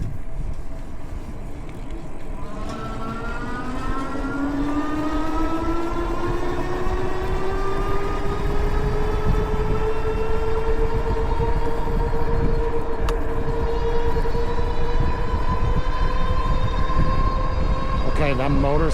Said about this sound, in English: that motor sounds phenomenal